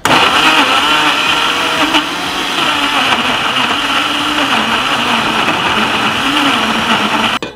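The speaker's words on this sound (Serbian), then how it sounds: "I ovako isečen paradajz samleću u blenderu." Chopped tomatoes whirl in an electric blender, a loud steady motor whine with churning grind that holds for several seconds before cutting off abruptly.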